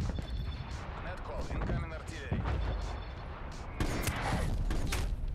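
Rapid gunfire from Black Ops Cold War gameplay, bursts of shots over dense game noise while a player talks over it.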